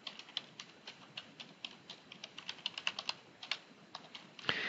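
A username is typed on a computer keyboard as a quick run of light, close clicking keystrokes with a louder tap at the end, no voices.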